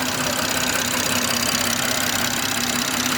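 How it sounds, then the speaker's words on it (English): A BMW 340 with the B58 engine idles with a steady, loud fuel pump whine riding over the continuous engine rumble, close by and unbroken throughout. "the fuel pump is loud as hell on this shit"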